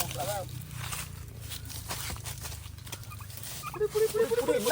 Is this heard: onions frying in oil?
no